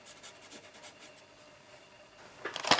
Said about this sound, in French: Ici, je vais colorier un petit peu ici.